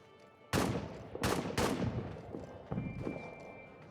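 French troops firing in the trench warfare video game All Quiet in the Trenches: four sharp, loud rifle reports, the first three in quick succession, each trailing off in a brief echo.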